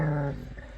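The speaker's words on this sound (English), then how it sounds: "Who's a vocal dog from Puckatawagan?" A vocal dog growls low and steady, then gives a few short rough yips, close by with no talk over it.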